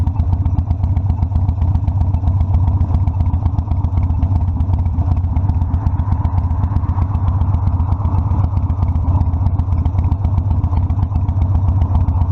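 A 2005 carbureted Harley-Davidson Sportster Custom 1200 with forward controls rumbles steadily while being ridden, its deep, loud V-twin pulse continuous and close throughout with a faint rattling clatter on top.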